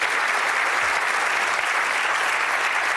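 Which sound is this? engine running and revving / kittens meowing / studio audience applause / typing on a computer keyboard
studio audience applause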